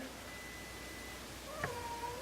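A faint, short cat meow rises out of a soft background hiss near the end.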